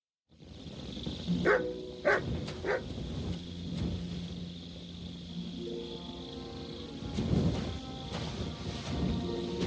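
Dog barking in the Kingdom Come: Deliverance II video game, several loud close woofs early on, then further scattered barks over steady game background noise.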